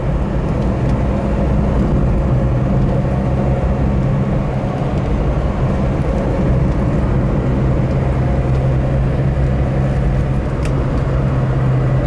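Interior drone of a 1985 Mercury Lynx station wagon with a 1.9L engine under way on the road, a steady loud low rumble of engine and road noise with no talk.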